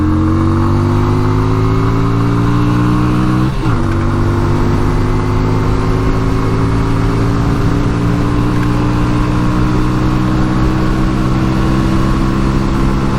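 A 1988 Yamaha Virago 250 motorcycle pulling hard at full throttle, a loud steady engine drone climbing in pitch, dropping sharply at a gear change, then rising again, with heavy wind rush throughout.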